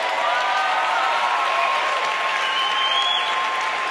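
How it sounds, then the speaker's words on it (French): Steady applause from a church congregation at an evening revival service fills the space, continuous and dense throughout, with a faint sustained tone running underneath. "applaudissent le roi des rois"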